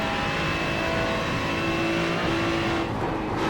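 Ferrari 296 GT3 race car held in fifth gear on the Nürburgring Nordschleife in iRacing, a steady high-pitched engine whine at sustained high revs with a slight lift near the end.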